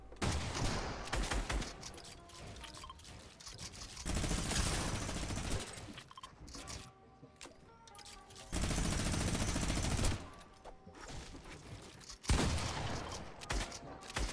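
Rapid shotgun blasts from a Fortnite box fight, loud bursts of game gunfire arriving in dense clusters with brief quieter gaps between volleys, no talking over them.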